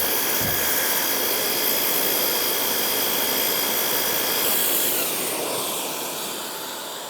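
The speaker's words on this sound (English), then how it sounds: "we're gonna sand it off" A power sander grinds steadily over wood filled with dried epoxy and coffee grounds, a loud continuous whirring hiss up close that eases off and tapers toward the end.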